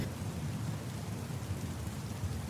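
Steady rain pours down on a stormy night, accompanied by low rumbling thunder in a dense, continuous wash of sound with no voices.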